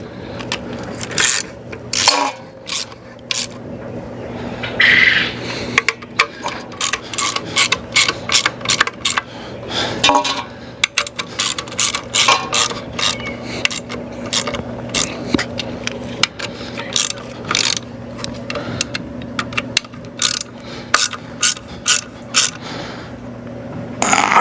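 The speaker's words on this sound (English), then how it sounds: "you just snug it up, because you smash it out from under the bolts and make it leak. That's why I'm choking the ratchet." Ratchet clicks in quick repeated bursts while snugging bolts on the valve cover of a Ford 445C tractor, with a steady hum running underneath and the clicking close and prominent throughout.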